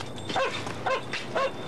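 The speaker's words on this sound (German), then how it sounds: "Komm, feiner Hund." A dog gives three short, mid-pitched barks or yips at an even pace, fairly close and clear, with no talking over them.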